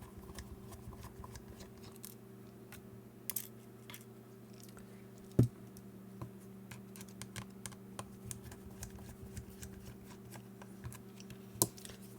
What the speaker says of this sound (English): We're taking all these screws apart.